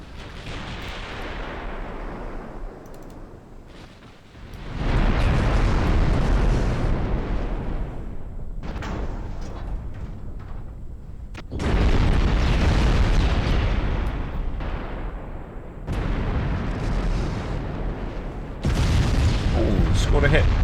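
Warship guns fire high-explosive shells in a naval strategy game, with Imperial Austrian ships: long, loud booming volleys roll in repeated bursts, each swelling and sustaining for several seconds, while a voice talks between them.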